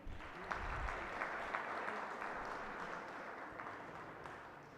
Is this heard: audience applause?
yes